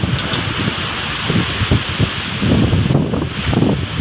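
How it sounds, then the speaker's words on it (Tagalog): Strong typhoon wind roars and gusts steadily, buffeting the microphone with loud rumbling rustle throughout. "Lakas ng hangin."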